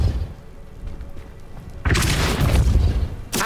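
A Depulso repelling spell cast in Hogwarts Legacy on Switch, heard as a sudden loud whooshing boom that bursts in after a quiet moment, followed by a short second impact at the end.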